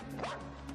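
A police dog gives a single short bark in a tense arrest scene, heard over a steady background hum.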